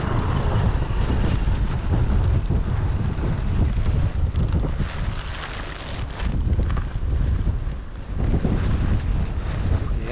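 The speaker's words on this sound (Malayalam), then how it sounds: "എന്താ കാറ്റ്" Strong wind with rain roars and buffets the microphone continuously during bottle fishing, with low rumbling gusts and a faint wash of water underneath, loud and close throughout.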